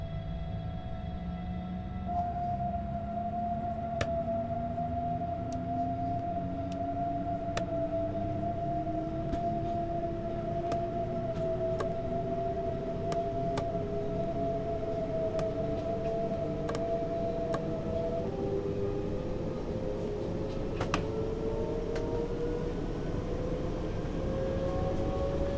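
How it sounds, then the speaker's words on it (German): A video game's BR 423 S-Bahn electric train motor whine rises steadily in pitch as it pulls away, a low hum beneath with occasional faint clicks, continuous and fairly close. "weil wir ja als S-Bahn unterwegs sind, hört man jetzt den Anfahrsound"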